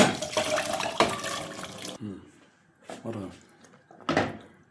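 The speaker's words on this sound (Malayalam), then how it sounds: "ഇനി ഇത് നമുക്ക് ഈ പാത്രത്തിലേക്ക് ഒഴിക്കാം" Cooked white chickpeas and their liquid pour into a vessel with a rushing, splashy sound for a couple of seconds, then a voice talks.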